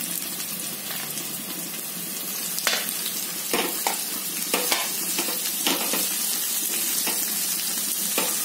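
Beans, carrot and cabbage frying in a pan, with a constant close sizzle broken by several sharp scraping stirs and clanks of the spoon, and no voices.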